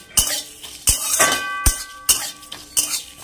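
Mixed vegetables being stirred in a pan, a utensil knocking against the metal in about five sharp, evenly spaced clanks with scraping between them, close and clear with no talking.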